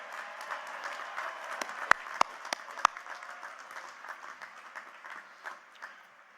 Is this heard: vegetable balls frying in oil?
no